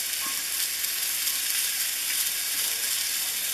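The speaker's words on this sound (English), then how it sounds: "Let's sear some onions too, because who doesn't like onions with their steak?" Onions searing on a hot griddle beside steak, giving a constant loud sizzle and crackle that runs unbroken from start to finish with no talking.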